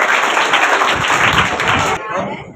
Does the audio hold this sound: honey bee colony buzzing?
no